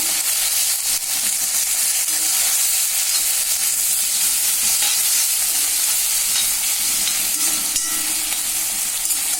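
Onion and tomato sauté in a pan for an egg pepper fry, giving a loud, steady, dense sizzle and hiss with faint scraping from stirring, close and continuous.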